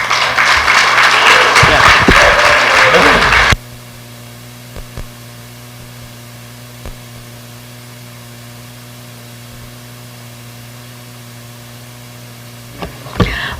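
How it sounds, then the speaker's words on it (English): An audience claps for a panel at a decolonization forum: a few seconds of full, close applause that stops sharply, leaving a steady electrical hum with a couple of faint knocks. "How about another hand of applause for such fine, intelligent panel?"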